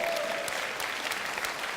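A conference audience at a Blender keynote applauding and cheering, a dense, continuous wash of clapping from a large crowd with scattered whoops, steady and loud throughout.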